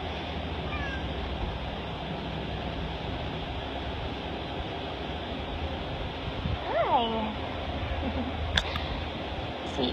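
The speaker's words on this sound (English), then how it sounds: "I hear you meowing." A black and white shelter cat meows once midway, close and clear, while people talk over a steady background hum.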